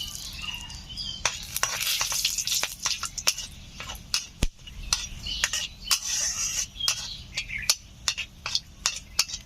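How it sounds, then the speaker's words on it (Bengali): Cardamom, cloves and cinnamon sizzle in hot mustard oil in a pan, with a light hiss under repeated sharp clicks and clatters of a spoon stirring against the metal. "তেল গরম হয়ে গেছে, দিয়ে দিচ্ছি এলাচ, লবঙ্গ, দারুচিনি।"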